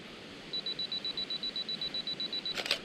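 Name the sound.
camera 2-second self-timer beeping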